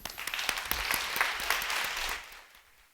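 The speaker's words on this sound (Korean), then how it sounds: "여러분 큰 박수로 맞아보겠습니다" Audience clapping at a literary award ceremony, scattered claps building into moderate applause that then fades away toward the end.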